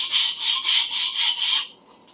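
Sujihiki knife edge drawn across a coarse 140 grit diamond plate, six steady rhythmic scraping strokes, close and bright with a gritty hiss, then a quiet tail.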